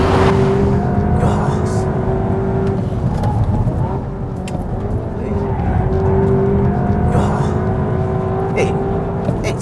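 A Honda Civic Type R engine drones steadily at speed on a race track lap, its pitch swelling and easing as it accelerates and lifts through gear changes, with a faint voice underneath.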